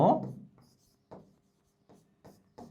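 Pen strokes on paper, a firm scratch at the start followed by several short, quiet scribbles spaced at irregular intervals, close by in an otherwise quiet room.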